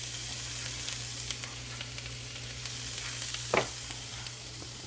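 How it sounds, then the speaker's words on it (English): Thick steaks and asparagus sear over high heat, giving a steady, close sizzle with a constant low hum and one brief clink partway through. "I left this on high the whole time because I had pretty thick steaks, and the asparagus tends to need pretty hot to really kind of sear it."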